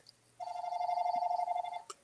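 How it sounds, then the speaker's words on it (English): Telephone ringing in the background during a sports and politics podcast, a single sustained electronic trill lasting over a second, moderately loud with a brief click afterward and no talk over it. "Excuse my phone back there"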